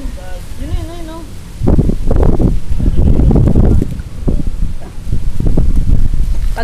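Strong wind on a hotel rooftop buffeting a microphone with heavy low rumble and rustling gusts, while a voice speaks briefly at the start.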